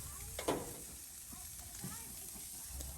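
Oiled steaks searing on an oiled Weber sear grate around 550 degrees, a continuous close sizzle and hiss with a brief louder crackle early on and occasional small pops.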